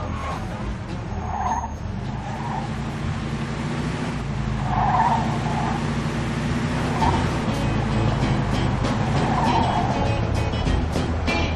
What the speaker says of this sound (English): Drive through the gate and into the yard.